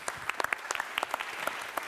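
A small audience at a research infrastructure panel claps for a speaker named Kyriakos coming to the stage, faint and somewhat distant, with scattered individual claps rather than a full roar.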